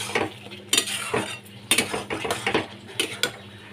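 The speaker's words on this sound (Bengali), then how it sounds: "ভালো করে আমি এবার কষিয়ে নিচ্ছি।" Poppy seed paste with ridge gourd and potato is stirred and sautéed in a pan, with a spoon clinking and scraping against the metal in irregular close strokes over a faint sizzle and no speech.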